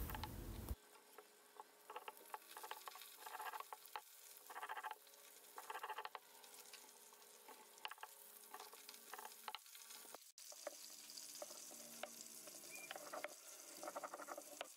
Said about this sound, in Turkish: orta ateşle şöyle puf puf kabarıp kızarana kadar pişirelim